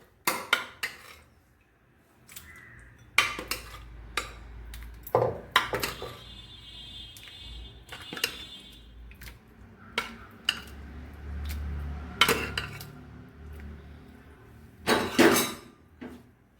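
Potato stew being spooned from the pot into a serving dish, with scattered clinks and scrapes of utensils against pots and dishes, intermittent and fairly close, with no voices.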